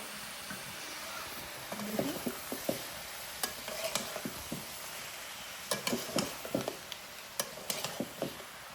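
Fish frying in a pan as a spatula stirs it, with irregular clicking scrapes over a soft, low sizzle, bunched in short clusters toward the end, and no talk.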